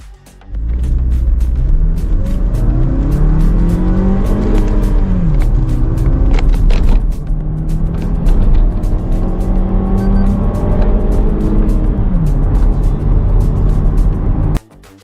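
A Toyota Glanza with a manual gearbox accelerating hard in a drag race, loud engine revving that rises and drops through several gear changes over a steady road rumble, with no voices.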